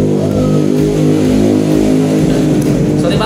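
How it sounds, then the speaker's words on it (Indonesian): Roadside traffic noise dominates, with a motorcycle engine revving loudly and close by, a deep rumbling drone that swells and falls, while someone talks over it. "sorry banget ya kalau di sini berisik, soalnya kita di pinggir jalan"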